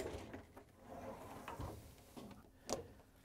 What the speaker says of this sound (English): In order to get to the part, we have to open up the dishwasher door.